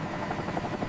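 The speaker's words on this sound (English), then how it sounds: "A helicopter descends to the teak deck, matching the ship's speed perfectly." Steady rotor thrum of a helicopter descending to a moving superyacht's deck, fairly faint and distant, with a rhythmic chopping pulse throughout the short moment.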